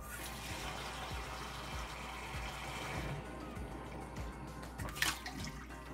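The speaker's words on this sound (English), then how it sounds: "Let's fill this up with water." Water runs from a tap into a fish breather bag, a low, steady rush and trickle with faint dripping and a small splash near the end.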